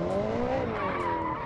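Car spinning out in a racing video game on a hill-climb course, tyres squealing in a loud continuous skid with a bending tonal screech over engine noise for the full second and a half.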